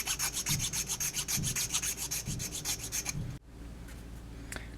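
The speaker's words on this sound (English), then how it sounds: "I'm just using a half-round needle file just to take those edges off" A half-round needle file deburrs the edges of a small sanding block in quick, rhythmic rasping strokes, about a dozen close, scratchy passes. It stops abruptly, leaving quieter room tone with a faint scrape.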